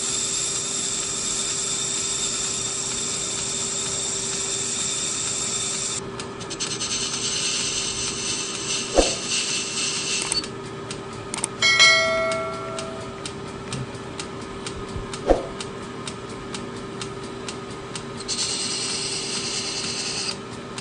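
Metal lathe facing a backplate for a 10-inch South Bend 4-jaw chuck with a turning tool, a steady hiss and hum of cutting with a few sharp ticks and clunks, close and continuous with no talking.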